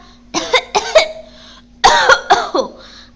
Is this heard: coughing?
yes